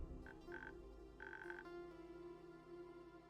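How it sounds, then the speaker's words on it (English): Frogs croaking in a treehouse in the video game Tavern Talk: a steady, quiet bed of croaks with brief, higher, repeated calls, heard alone without voices. "The frogs in the treehouse?"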